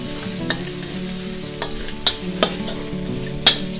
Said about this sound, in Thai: ผัดให้เข้ากันเลยนะคะจนหอมเลยค่ะ